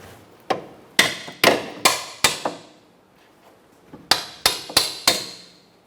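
A hammer drives a metal punch through the bolt hole of a rear lower control arm on a 2004–2009 Mazda 3: about ten sharp, ringing strikes in two quick bursts separated by a pause.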